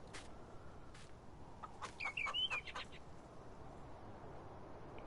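Chickens and roosters on a Farming Simulator 19 farm give a brief burst of clucking and chirpy calls near the middle, fairly faint against a steady background hum.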